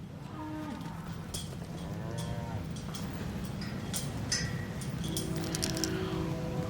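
A black Angus calf moos on a dairy farm with Holstein cattle, giving several drawn-out, fairly close moos over a steady background hum of the barn.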